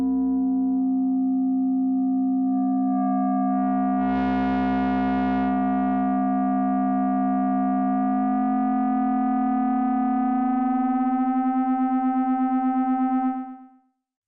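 A steady electronic tone from an Arturia MicroFreak synthesizer, its Shape knob adding feedback, harmonic overtones thickening and buzzing as feedback builds, a brief noisy burst midway, then stops abruptly.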